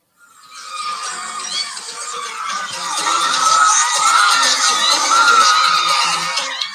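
A crowd screams and cheers loudly and continuously on an 80s vinyl record of The Jacksons, a dense wall of shrieks that swells and builds toward the end, with no other sound over it.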